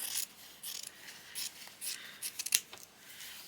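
Scissors cut through a piece of lime green dyed fabric, a faint, close series of short crisp snips and clicks in uneven bursts against a quiet background.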